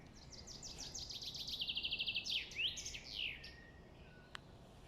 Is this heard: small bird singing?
yes